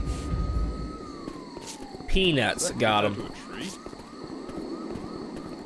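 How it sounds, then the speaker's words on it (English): An ambulance siren from a short horror film rings out as a steady wail that then bends downward, with voices talking and exclaiming over it. "someone called an ambulance!"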